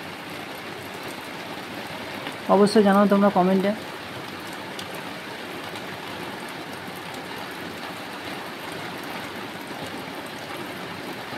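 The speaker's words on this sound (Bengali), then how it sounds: "বৃষ্টির আওয়াজ দেখতে পাচ্ছ গাইজ, প্রচণ্ড পরিমাণে বৃষ্টি হচ্ছে।" Heavy rain falls at night in a steady, dense hiss that fills the whole clip, with a person speaking briefly near the start.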